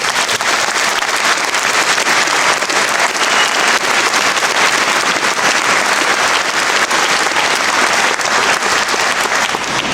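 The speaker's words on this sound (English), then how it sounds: "Why don't we start the afternoon by giving all the graduates this afternoon a great round of applause." A large audience at a university graduation ceremony claps for the graduates, filling the hall with loud, dense, sustained applause that holds steady from start to finish with no talk above it.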